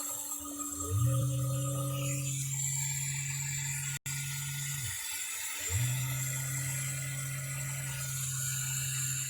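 3D printer layer fan spinning at full speed, a steady close whir with a faint ratcheting, slightly rough mechanical tone from an original, worn fan, the whine briefly dropping out and resuming midway.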